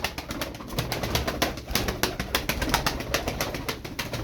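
Tumbler pigeons flap their wings in repeated bursts of rapid fluttering and clapping, close by, with some cooing in the background and no talk.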